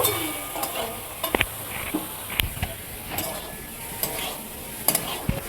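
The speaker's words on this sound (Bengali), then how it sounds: "দিয়ে এটাকে ভালো করে আমি কষিয়ে নেব" Okra and fried onion stir-fried in a spice paste with a splash of water, a bright sizzle broken by repeated sharp spatula scrapes and clinks against the pan, no voices.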